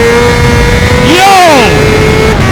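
Honda CBR600RR motorcycle at full throttle while lifting a wheelie in second gear: a loud, close engine roar climbing steeply in pitch, then dropping back, over constant wind rush.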